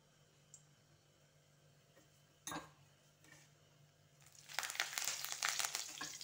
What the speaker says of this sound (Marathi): त्याच्यामध्ये टाकले आहे मोहरी आणि जिरा।